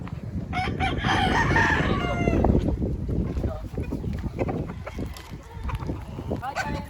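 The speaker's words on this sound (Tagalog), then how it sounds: "Ang dami manok." Several roosters crow repeatedly in a backyard flock, loud and close, with overlapping calls and clucking while someone talks over them.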